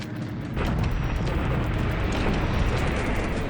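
Aircraft being destroyed on the ground in a war video game, heard as a sustained, loud roaring wash of explosions that swells after a half second and rumbles on without a break.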